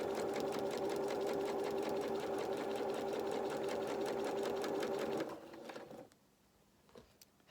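A sewing machine stitches a seam on children's shorts or dungarees, a steady rapid mechanical whirr with even needle clatter that slows and stops near the end, followed by quiet handling sounds.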